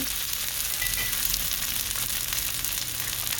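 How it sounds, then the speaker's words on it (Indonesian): Chopped spices frying in a little oil in a wok for a stir-fried bottle gourd dish, a steady loud sizzle with faint stirring scrapes and no talking. "Kemudian masukkan bumbu yang tadi kita sudah potong-potong"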